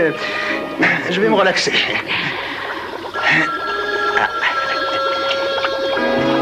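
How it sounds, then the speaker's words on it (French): A telephone bell rings repeatedly and its tones cut through people speaking French nearby, with the rings clearly audible over the conversation. "C'est le téléphone."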